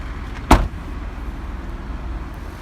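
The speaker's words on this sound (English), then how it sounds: "my viewers want to hear the door sound of the trunk." Trunk lid of a Volvo 960 slams shut once, a single sharp thud standing out near and loud against a steady low idle-like background hum.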